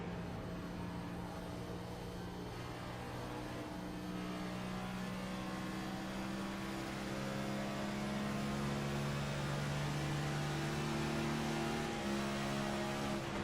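Vintage stock race car in the iRacing Antique & Vintage Cup at Homestead, engine droning steadily with harmonic tones that climb and step up through an upshift, continuous and close with no talk over it.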